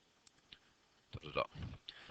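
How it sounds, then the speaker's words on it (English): Fingers tapping keys on a calculator keypad, a few light separate clicks followed by a denser burst of quick presses, close by and quiet. "I am just typing it into my calculator"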